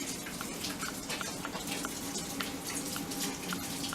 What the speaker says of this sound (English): Let me wash my hand with this.